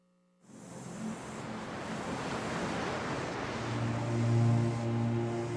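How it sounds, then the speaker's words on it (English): Ocean waves breaking in a steady, broad wash of surf that swells louder over several seconds, with wind buffeting the microphone and a low hum beneath. "Humans are drawn to the ocean."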